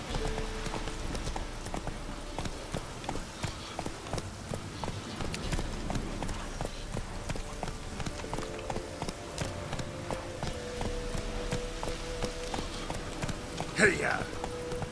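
Steady clip-clop of a horse galloping in The Witcher 3 video game, a continuous rhythmic hoofbeat running the whole time with game ambience underneath and a brief sharper accent near the end.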